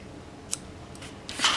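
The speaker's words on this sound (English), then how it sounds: "I'm going to snip my end" Scissors snip a bulky yarn end in a few quick, crisp cuts close by, the last one louder and longer.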